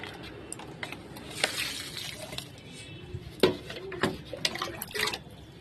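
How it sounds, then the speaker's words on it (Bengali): Water splashes onto garden plants at early morning, gentle pouring and spattering in irregular bursts, close by and moderately quiet. "তো চলো গাছে একটু জল দিয়ে দিই"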